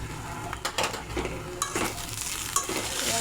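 A spoon stirs cabbage and fish-head ghonto in a pan after ghee is added, with repeated scrapes and clinks against the metal over a soft sizzle, close and clear.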